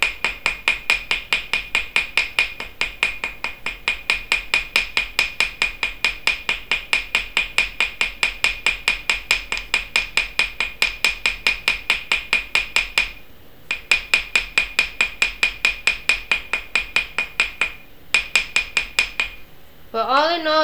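Rapid, steady hammering on metal wire, a fast regular train of sharp ringing strikes that pauses briefly twice, with a voice starting at the very end.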